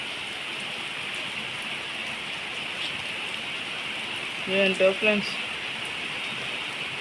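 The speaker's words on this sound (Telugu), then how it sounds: "చూశారు కదా ఫ్రెండ్స్ వాన ఎలా కురుస్తుందో" Steady rain falling in Hyderabad in summer, a continuous even hiss filling the whole stretch, with a voice speaking briefly near the end.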